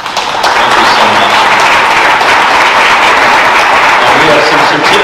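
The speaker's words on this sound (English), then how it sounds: "let's give them all a big round of applause" Audience applause at an Independence Day celebration, a steady, dense wash of many hands clapping that holds at full strength for about five seconds.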